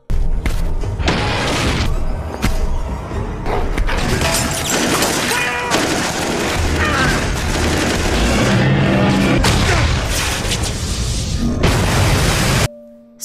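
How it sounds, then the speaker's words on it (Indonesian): An RPG rocket striking an alligator and exploding in a film scene, with loud, dense booms and crackling blasts running almost continuously, then cutting off abruptly near the end. "Duar, meleduk itu langsung."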